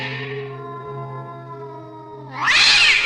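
A black cat lets out a long, drawn-out meow, loud and close, rising into a harsher strained wail at the end.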